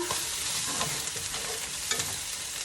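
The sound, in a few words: egg cooking in a pan for an Italian sub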